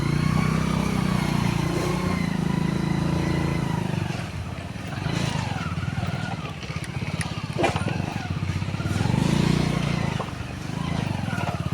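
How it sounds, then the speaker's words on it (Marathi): A motorcycle drives along a rough village road near a temple, its engine a steady low rumble that dips and swells, close by and loud, with people talking over it. "या रस्त्यातनं गाडी आता घालायची. घालायची नाही घालत आहे."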